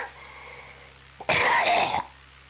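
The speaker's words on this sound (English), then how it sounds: "Who's coughing?" A person gives one short harsh cough, close and fairly loud, over quiet background hum during a flight simulator voice chat session.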